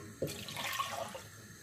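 Water poured into a cooking pot (handi) holding washed mutton for katwa gosht, a short splashing pour of about two cups starting abruptly and running steadily at moderate level in a home kitchen.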